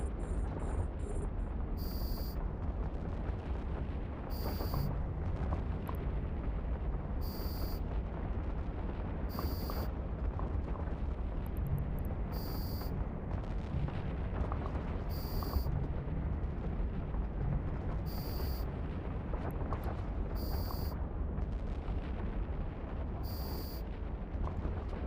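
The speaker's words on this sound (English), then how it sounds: "I'll try to shoot the cruisers now" Ship guns firing at cruisers in a naval video game, heard as a dense, steady roar of booming gunfire and rumble, with sharp high interface blips repeating roughly every two to three seconds.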